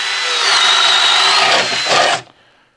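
A DeWalt XR drill/driver on speed 2 bores a 1-inch Daredevil spade bit through wood, a loud steady whirring grind for about two seconds that swells near the end as the bit breaks through, then cuts off abruptly.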